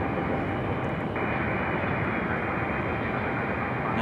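Jet airliners departing Raleigh-Durham airport in quick succession produce a steady, loud broadband roar that holds continuously and swells slightly, with no talk.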